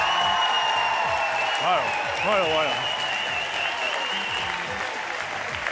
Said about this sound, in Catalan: Mai en ma vida havia sentit un aplaudiment tan efusiu d'un públic tan efusiu com aquest.